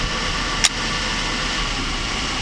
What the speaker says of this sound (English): because the engine is running, but it's not getting proper air mixture at the moment